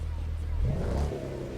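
Audi TT RS passing by in the racing video game The Crew 2, a brief engine surge and rev sweeping past over a steady low engine drone, with speech murmuring underneath.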